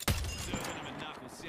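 Gunfire in the video game Emergence: a sharp loud burst at the start followed by a ringing, crackling tail and a softer second impact, with a voice briefly audible underneath.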